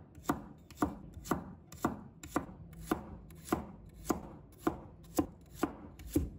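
A knife slices garlic cloves on a cutting board in about a dozen crisp, evenly spaced chops, close and clear with no talking.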